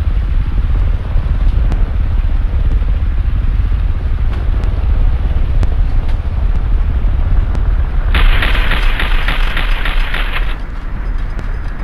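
Gunfire and an explosion in the War Thunder aircraft combat game: a steady roar of engine and distant shots, then a sudden bright crackling blast that lasts a couple of seconds.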